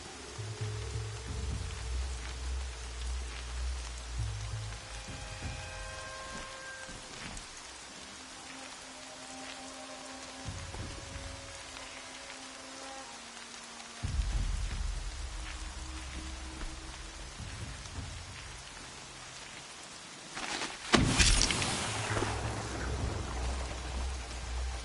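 Steady rain falls in the Horizon Zero Dawn game world, a broad continuous hiss of drops with low rumbling ambience and a brief louder gust of noise near the end; no one speaks.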